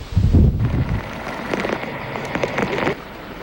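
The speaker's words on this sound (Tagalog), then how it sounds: "napakalakas ng ulan na sinabayan rin ng malakas na bugso ng hangin" Strong typhoon wind and heavy rain during a storm in the Philippines, heard as a broad steady roar with a loud gusty burst at the start, then sustained rushing noise with brief crackling spikes.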